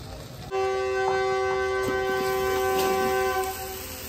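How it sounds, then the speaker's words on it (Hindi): A loud, sustained train horn blares steadily for about three seconds with rich layered tones, then cuts off, leaving background rumble. "रेलगाड़ी का हॉर्न आ गया"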